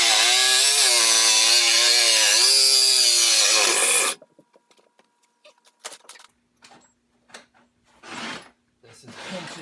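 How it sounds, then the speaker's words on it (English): A power saw cuts through the metal floor of a Sprinter van to open space for battery trays: a loud, steady harmonic whine for about four seconds, then it stops and scattered clunks and handling knocks follow. "we're just about finished cutting out the floor for the battery trays"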